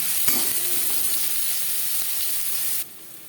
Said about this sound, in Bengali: পেঁয়াজ ভেজে নেব এখানে